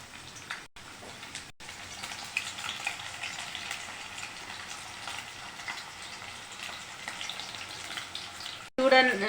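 Masala-coated chicken leg pieces fry in hot oil, giving a steady, fairly loud sizzle through most of the stretch, with a brief scrape or clatter near the end.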